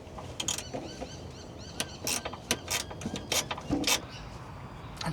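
Ratcheting spanner tightening a nylock nut during a van kitchen pump repair, irregular sharp clicks and short ratcheting bursts, close and moderately loud.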